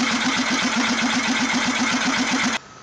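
A homemade 5HP re-compression air/steam engine runs at a steady, rapid chug, each stroke pulsing evenly under a loud hissing rush of exhaust until the sound cuts off abruptly near the end.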